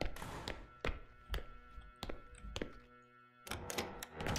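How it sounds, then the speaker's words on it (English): Door in The Classrooms being tried repeatedly without opening, a series of hollow knocking thunks and rattles at irregular intervals, close and alone. "Oh, I'm having difficulty again to open doors."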